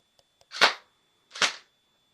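Two sharp semi-automatic shots from a Tokyo Marui MP7A1 airsoft gun fired at a coat, each a crisp snap about a second apart, close and loud with only faint clicks before them.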